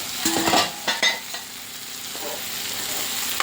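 Cucumber and tomato curry is stirred in a pan, a few sharp utensil scrapes and clinks against the metal early on, then a softer continuous simmering sizzle, close up and without voices.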